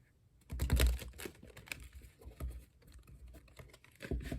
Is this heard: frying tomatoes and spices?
no